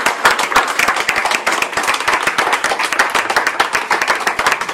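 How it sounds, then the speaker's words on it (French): A small crowd claps for a finished giant fresco in Josselin, with distinct individual hand claps in a quick, uneven rhythm, loud and close, continuing steadily without talk. "On peut tous applaudir."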